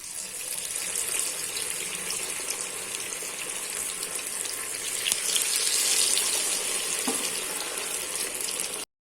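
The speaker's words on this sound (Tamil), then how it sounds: "நான் வந்து ஆயிலில் பொரிக்கிறேன்" Continuous loud sizzling of fish frying in hot oil, with scattered crackles and pops, and no talking.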